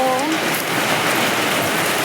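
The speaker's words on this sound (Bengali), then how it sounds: "দেখো প্রচণ্ড বৃষ্টি হচ্ছে" Heavy rain pours down in a loud, continuous hiss of drops drumming on surfaces, close and constant throughout with no voices.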